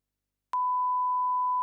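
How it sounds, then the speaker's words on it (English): A single censor beep, a steady pure electronic tone that starts abruptly partway through and holds loud and unbroken to the end after a moment of silence. "we can beep it out."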